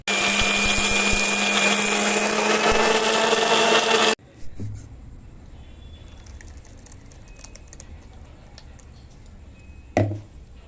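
A mixer grinder whirs loudly for about four seconds while grinding black urad dal chutney with salt, then cuts off abruptly. Faint clicks and a brief clatter of handling the jar follow in near quiet.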